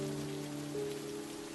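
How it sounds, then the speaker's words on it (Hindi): Heavy rain falls in a brief, steady, dense patter, with a low tonal hum beneath it. "बारिश और तेज हो जाती है।"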